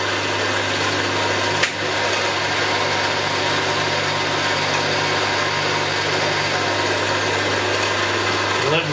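A machine tool cuts a David Brown Selectamatic valve test plate, producing a steady, loud mechanical whir with a constant hum and a faint high whine, broken by one brief knock.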